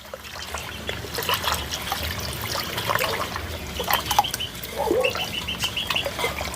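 Homemade dishwashing liquid mix being poured and stirred, a steady trickle of liquid with soft swishing and faint scraping, close and moderately loud, with no talk.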